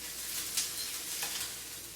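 Lentil mushroom patties fry in a pan with a soft, continuous sizzle and faint crackle. There is no talk.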